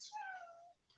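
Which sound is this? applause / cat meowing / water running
cat meowing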